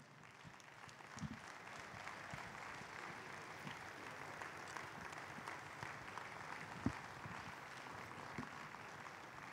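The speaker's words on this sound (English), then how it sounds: "let's give Pastor George Mahlobo a welcome applause to the pulpit" A church congregation claps steadily to welcome a pastor to the pulpit, a dense, even patter of many hands heard from a distance, with a few sharper claps standing out.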